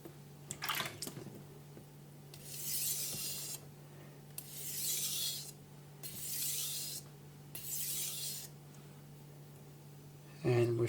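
A knife blade is stroked along a wet sharpening stone in four long, even rasping passes, separated by short pauses, close up, with a few brief clacks before and after.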